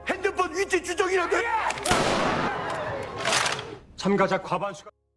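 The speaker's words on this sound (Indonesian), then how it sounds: "para staf langsung menembakkan pistol peringatan" Staff fire warning pistol shots at panicked participants in a deadly children's game: two sharp, loud bangs ring out over a voice that talks almost throughout.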